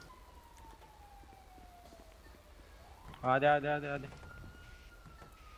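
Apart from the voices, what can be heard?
police sirens in GTA 5 video game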